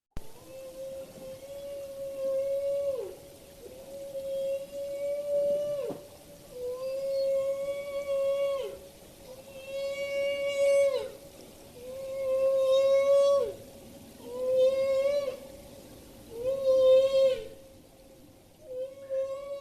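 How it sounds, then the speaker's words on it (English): Calls from a group of humpback whales bubble net feeding, repeated long tonal moans that rise and bend, about a dozen in sequence with brief gaps, clear and unaccompanied. "What it actually is a group of humpback whales performing bubble net feeding. So this is bubble net feeding calls"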